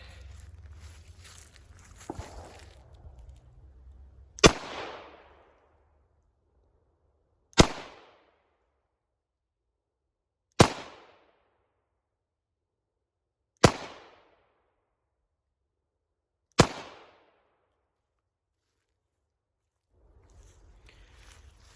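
Five sharp, loud Charter Arms Bulldog .44 Special revolver shots fired offhand, spaced about three seconds apart, each with a short decaying echo, with quiet outdoor background between them.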